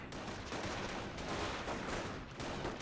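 Squads exchanging fire in Company of Heroes, a dense wash of distant rifle and machine-gun shots and battlefield noise, steady and moderately loud throughout.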